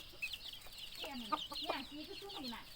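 A white chicken and other fowl in a backyard coop cluck in a run of short, rising calls close by, over a constant chorus of softer clucking from the flock.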